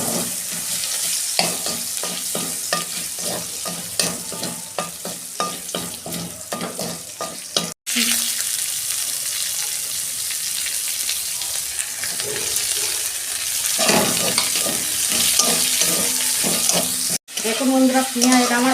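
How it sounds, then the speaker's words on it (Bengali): Onion, crushed garlic and nigella seeds frying in oil, a loud continuous sizzle with rapid rhythmic scraping of a spatula stirring the pan, briefly interrupted by short cuts. "দেখুন বন্ধুরা, পেঁয়াজ আমার ভাজা হয়ে এসেছে।"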